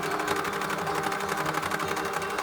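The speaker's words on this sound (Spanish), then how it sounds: "Hacemos un dobladillo y pasamos la costura 2 veces, es decir, hacemos 2 costuras en paralelo" Sewing machine stitching a doubled parallel hem on a denim apron made from old jeans, a steady fast whir of needle strokes running continuously and close.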